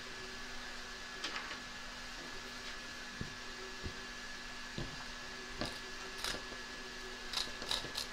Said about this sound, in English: I trim around the stitch line, taking care not to cut my fabric underneath